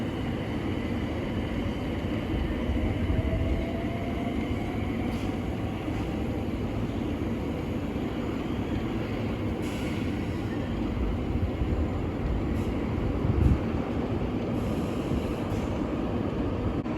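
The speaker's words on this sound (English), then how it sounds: "now departing is the 1316 Southern service from Milton Keynes Central to Clapham Junction" A Southern passenger train departs Milton Keynes Central station, a steady low rumble of wheels and engine rolling continuously at moderate distance, with a faint horn-like tone and a brief clunk near the end.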